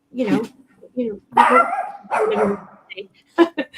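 A dog barks in several short, loud, close yips and woofs, with a brief whimpering note, spaced unevenly across a few seconds.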